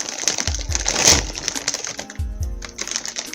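Dry vegetables tumble from a cut-open package into a stew pot, giving a quick run of close, crackling rattles and clattering impacts over about three seconds.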